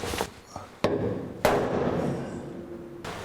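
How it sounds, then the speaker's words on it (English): A center punch is struck against a bolt in a 1949 Chevrolet frame, giving two or three sharp metallic taps, close and distinct, each followed by a brief ringing decay, with no talking. "Next thing we got to do is center punch this thing."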